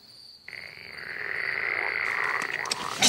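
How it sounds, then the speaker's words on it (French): A toad gives a long, continuous trilling croak at night that starts abruptly and holds steadily, rising slightly in intensity, with a faint high tone in the background. "C'est un crapaud, c'est pas grave,"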